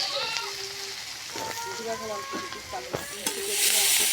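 Chopped onion, garlic and green chili frying in oil for a bottle gourd dish, a continuous sizzle with stirring scrapes and clatters, the hiss swelling louder near the end while a voice talks over it.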